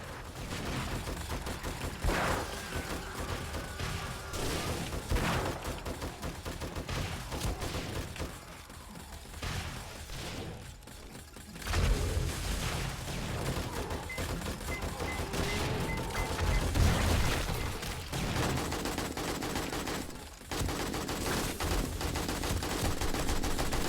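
Rockets fired into a zombie horde in 7 Days to Die on insane difficulty, a dense, continuous barrage of gunfire-like blasts and booms that stays loud throughout, with heavier bursts breaking through partway along.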